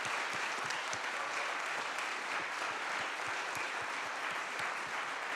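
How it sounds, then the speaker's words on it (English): A room full of people applauds guest speaker Simon Thomas, a dense and steady clapping that holds at an even level for about five seconds with no voices over it. "Let's give Simon a round of applause."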